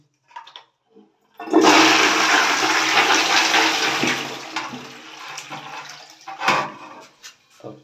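A newly installed wall-hung toilet flushes after its button is pressed: a loud, close rush of water that surges for several seconds, then tapers into gurgling and refilling, with a few small knocks and clicks.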